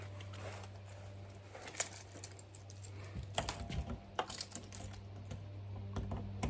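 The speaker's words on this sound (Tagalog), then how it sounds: "Susian muna natin mga kapanyero." Keys work a door lock at a tiny house on a farm, giving a few sharp metallic clicks and small rattles close by against a quiet, humming background.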